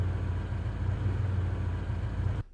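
A car engine idles as a loop for a game vehicle sound system, a steady low rumble with a regular throb, close and alone, cutting off abruptly at the end.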